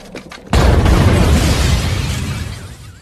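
A loud sudden boom from a house blast set off by gas and a toaster in an action film scene, bursting in after half a second of quiet and then rolling into a long rumbling roar.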